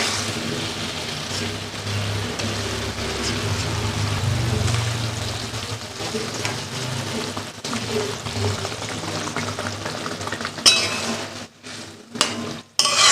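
Fish pieces (bhola river fish) go one by one into a boiling poppy-seed and green-chilli gravy, giving a steady bubbling simmer with soft splashes and utensil clinks near the end, no talk.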